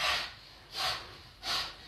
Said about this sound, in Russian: Можно на каждый счет выталкивать воздух.